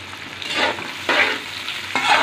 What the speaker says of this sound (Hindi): अब हम इसमें प्याज ऐड कर लेंगे। प्याज को हम लाइट ब्राउन कर लेंगे।